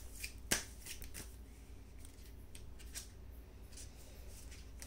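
Tarot cards are shuffled by hand at a reading. Soft, quiet riffling and light flicking carry on throughout, with one sharper snap near the start.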